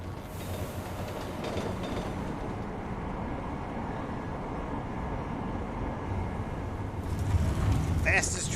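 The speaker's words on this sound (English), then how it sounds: "Fastest tram ride in history." A tram ride in the video game Deus Ex: Mankind Divided gives a dense, continuous rumble of rolling rail transport, loud and steady throughout, swelling slightly near the end.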